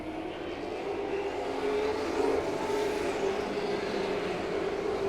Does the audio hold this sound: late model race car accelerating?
yes